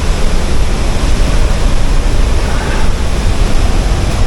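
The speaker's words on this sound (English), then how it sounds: "So this is the path going up close to the waterfall" A waterfall on a narrow path in Baños, Ecuador roars very close by as a loud, dense, continuous rush of water with no pauses.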